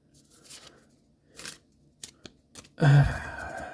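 Tarot cards being handled make soft papery rustles and brief flicks, ending in a louder, quick riffle-shuffle burst near the end, close and with no voices.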